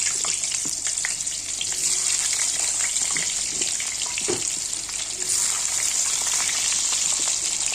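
Potato, onion and chili frying in hot oil in a wok for a thin egg curry, a steady close sizzle running throughout with small pops and stirring scrapes, no talk.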